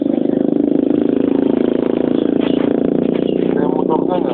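A motorcycle engine runs close and loud with a steady, pulsing throb, and faint voices come in toward the end.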